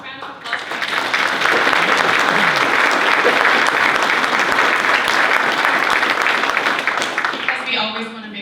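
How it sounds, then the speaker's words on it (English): Sustained, dense applause from an audience at an economic outlook and housing forum, rising quickly after a brief lull and holding strong before easing at the close. "Just a round of applause."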